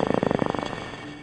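Streaked gannet recorded underwater: a rapid train of pulsed, grunting knocks, loud and evenly spaced at first, then fading into a softer trailing hum, heard alone.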